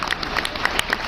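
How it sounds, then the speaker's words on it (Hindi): Loud applause from an audience at a Hindi comic poetry show, a short burst of dense clapping with a few sharper individual claps standing out. "आप लोग जोरदार तालियां बजाइए"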